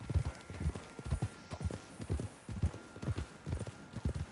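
Steady clip-clop of a horse's hooves in Red Dead Redemption 2, an even walking rhythm of close, distinct hoofbeats with no voices over it.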